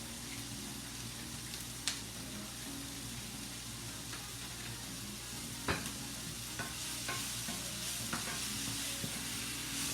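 Vegetables sauté in a pan for a Mother's Day brunch, a quiet, even sizzle under a low background hum, with occasional clicks and scrapes of a utensil stirring, no talking.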